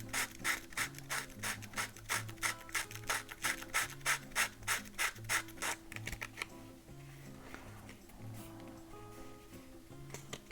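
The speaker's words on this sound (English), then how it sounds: "this is 220, and just kind of wrap it around and rotate the plug inside the sandpaper" A plug for an Estes K-35 Astron Constellation model rocket is rotated inside wrapped 220-grit sandpaper, making a rapid, even series of close scratching strokes that fade to softer rubbing near the end.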